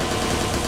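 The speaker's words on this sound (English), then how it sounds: "There's another guard on the ground level who's alerted to our gunfire" A short, dense burst of rapid gunfire from the DedSec rifle in the video game Watch Dogs 2 crackles at moderate loudness.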